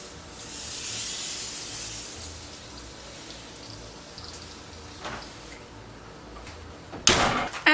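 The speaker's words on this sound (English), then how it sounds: "I'm gonna go ahead and spray" A spray bottle of oven cleaner hisses in a few short bursts near the end, preceded by a soft steady hiss and faint clicks, spraying inside an oven and its door.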